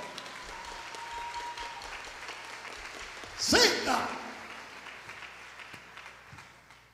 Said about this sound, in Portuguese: Aí, salva de palmas para ela.